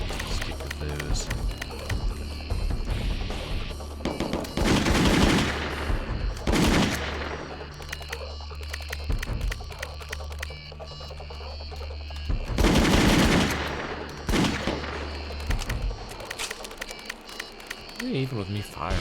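Bursts of rapid automatic gunfire in an indie video game, with loud clustered volleys between quieter stretches of game sound and someone talking over parts of it.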